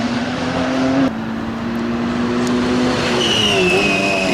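A Lotus Aurora race car howls along the Brands Hatch GP circuit during a 2012 Britcar race, its loud engine drone holding close, with a gear change shifting the pitch partway and a faint higher whine joining near the end.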